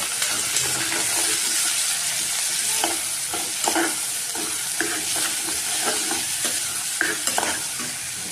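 Chopped vegetables for a Kathiyawadi veg biryani tossed in a hot pan, a continuous bright sizzle with irregular soft scrapes and clinks of stirring throughout.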